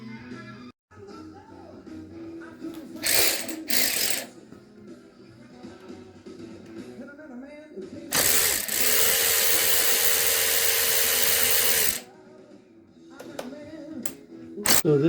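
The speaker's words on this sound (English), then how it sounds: "So now I need to take off these bolts holding this whole piece on here." Close, loud bursts from a power tool, likely an electric ratchet, backing out engine bolts near the spark plug on a 2019–2024 Husqvarna, KTM or Gas Gas 250/350 motorcycle during a valve adjustment. Two short bursts come first, then one long sustained run, with tool clatter in between.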